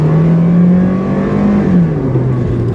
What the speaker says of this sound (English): That droning engine, kind of lackluster acceleration.